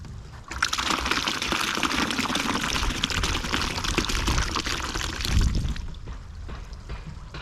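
Water pours steadily into potting mix in a continuous gushing stream for several seconds, close by, then tapers off into quieter trickling.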